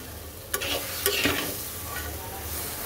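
Bottle gourd leaves and singi fish are stirred in a pan, giving a continuous soft sizzle with a few sharp scrapes and clinks of the spoon early on, close and without talk.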